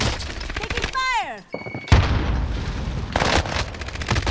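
Gunfire crackles through a Call of Duty Warzone Pacific match, dense bursts of shots mixed with game effects and a brief sweeping tone, with players talking over the action.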